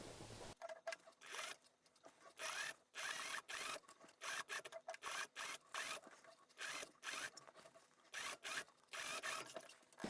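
An overlocker serger stitches the sleeve seam of a ruffled summer dress, its mechanical whir running in steady stretches broken by brief stops.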